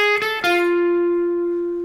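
An electric guitar plays the opening phrase of the intro, two quick picked notes followed by a long ringing note that slowly fades, clean and close with no talk.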